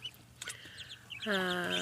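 Small ducklings peep faintly near a mother duck, a few soft chirps followed by a clear, sustained call at the end.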